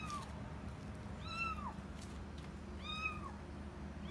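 A kitten stuck in a Tesla Model X rear bumper cries out with two or three thin, muffled meows spaced over a few seconds, faint over a low background rumble and with no one speaking.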